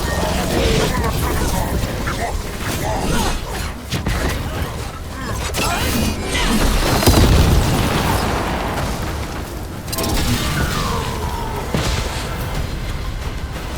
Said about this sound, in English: you breathed fire